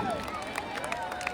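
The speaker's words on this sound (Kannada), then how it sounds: "ಜೋರಾದ ಚಪ್ಪಾಳೆ ಬರಲಿ ನಮ್ಮ ಚೇರ್ಮನ್ ಸರ್ಗೆ" An audience at a college music festival in Hubli claps for the chairman, a steady wash of applause with faint cheering mixed into the crowd noise while a voice carries over it.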